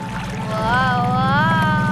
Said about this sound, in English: I'm starting the motor.